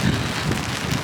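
Spring rain falls outdoors in Toronto, a brief, continuous hiss of drops with some wind rush, steady and fairly loud throughout.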